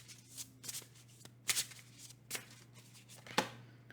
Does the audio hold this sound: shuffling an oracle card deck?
yes